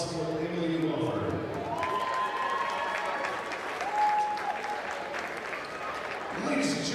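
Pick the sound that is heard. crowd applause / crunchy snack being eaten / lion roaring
crowd applause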